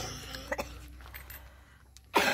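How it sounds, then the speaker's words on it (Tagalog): A few short coughs: two quick ones close together, a quiet pause, then a sharper, louder cough at the end. "Ano ra ba sa ubo ko?"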